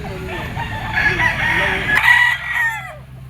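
A straight-comb, yellow-legged stag rooster crows close by at a Philippine market: one loud cock-a-doodle-doo with wavering rises and falls, cut off sharply near the end, with faint clucks and background murmur.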